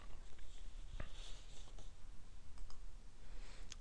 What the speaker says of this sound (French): Je clique ensuite sur Démarrer pour démarrer ma campagne